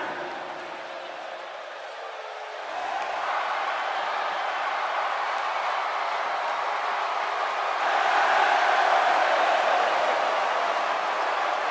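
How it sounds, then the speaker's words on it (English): A big Las Vegas arena crowd in the WWE 2K17 wrestling game roars steadily before a ladder match for the WWE World Heavyweight Championship, the noise swelling partway through and staying loud. "By the sound of this Vegas crowd, I'd say they sure know how to have a good time."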